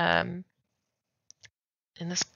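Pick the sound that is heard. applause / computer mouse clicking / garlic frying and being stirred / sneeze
computer mouse clicking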